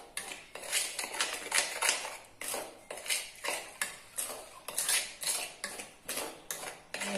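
A spoon stirs vada potato mixture in a bowl with baking soda, making steady, rhythmic scraping clinks, roughly two strokes a second, close and clear throughout.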